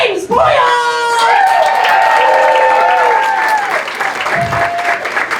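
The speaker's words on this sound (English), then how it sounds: "Please give a huge round of applause to James Boyle!" A packed comedy-club audience applauds and cheers comedian James Boyle, steady dense clapping with whoops, while an amplified voice talks over the first few seconds before the ovation tails off.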